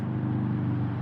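A steady low roar of traffic on the nearby A43 highway, heard from a canal marina, drones on without a break, a constant background hum with no voices.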